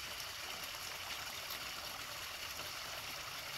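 Spring water flows freely at Boulware Springs, a gravity-fed spring enclosed by a historic brick water works structure near Payne's Prairie; a steady, soft, continuous rushing wash with no talk over it.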